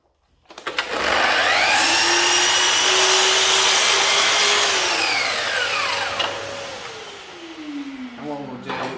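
A Festool Kapex miter saw cutting a mitre: the motor spins up to a loud, high whine and holds through one long cut, then winds down as the blade slows.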